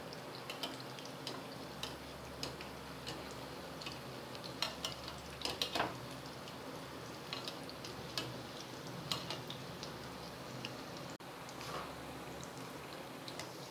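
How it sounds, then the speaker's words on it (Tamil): Egg bajji, boiled eggs dipped in gram flour batter, frying in hot oil: a soft, steady sizzle with faint crackles and occasional light ticks from utensils, quiet and continuous with no talking. "எல்லா முட்டையும் கடலை மாவில் டிப் பண்ணி போட்டாச்சு. ஒரு பக்கம் பொரியட்டும்"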